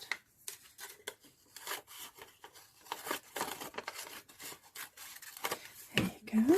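Paper being cut for a handmade no-sew junk journal: quiet, close scissor snips and rustling come in short irregular bursts, with a louder crinkle near the end.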